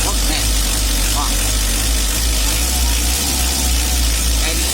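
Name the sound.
car engine running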